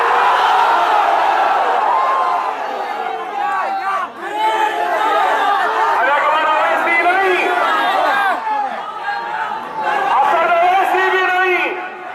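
Large crowd at an outdoor political rally in Mumbai roaring a chant in unison, loud and sustained, with mass shouting swelling and dipping in waves and voices blending into a dense roar.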